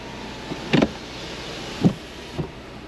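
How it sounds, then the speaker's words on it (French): An electric sunroof on a Porsche Macan S closing: a few short, close motor whirs and mechanical clunks in brief bursts over a quiet cabin, with no talking. "On va fermer l'auto-ouvrant pour laisser."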